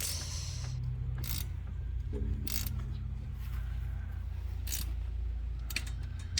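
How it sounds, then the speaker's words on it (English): A ratchet tightens bolts on the winch assembly of a 1991 Rockwood Premier pop-up camper. Several crisp clicking bursts rise close over a steady low background hum, with no talk. "let's get some of these bolts a little tighter than this"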